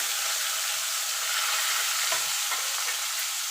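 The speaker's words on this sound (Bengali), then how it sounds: "পেঁয়াজটা একটুখানি ভাজা ভাজা করে নেব" Two medium grated onions fry in hot oil with a loud, dense, continuous sizzle and hiss, up close, with a couple of faint clinks as they are stirred and no one speaking.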